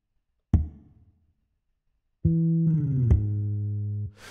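Ample Sound virtual guitar playing a legato slide: a plucked note decays, then after a pause a sustained note starts, slides smoothly up into a new pitch with a soft attack, holds clearly, and stops.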